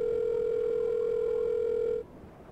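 A steady telephone dial tone hums from a phone in the video game Silent Hill: Shattered Memories, loud and continuous for about two seconds before cutting off abruptly into quiet background.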